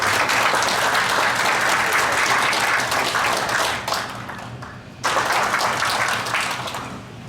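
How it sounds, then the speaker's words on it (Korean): A standing audience at a Buddhist forum applauds to welcome a monk with loud, sustained clapping. The sound dips briefly midway and then swells again. "잠시 일어나주시고 박수 한번 보내주시기 바랍니다."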